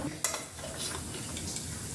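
Turmeric and red chili powder sizzle in hot oil in a pan while dabeli masala is made. A steady, close frying hiss runs throughout, with a light scrape of stirring near the start.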